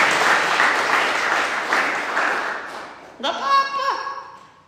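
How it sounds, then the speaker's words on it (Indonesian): Church congregation clapping together in worship, a dense steady patter of applause that fades toward the end, followed by a short tonal musical phrase. "Tepuk tangan untuk Tuhan"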